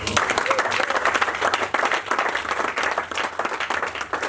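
A church congregation applauds and cheers in acclaim of Jesus during an evangelist's sermon, a dense, loud wash of clapping and crowd noise lasting a few seconds, with voices mixed in.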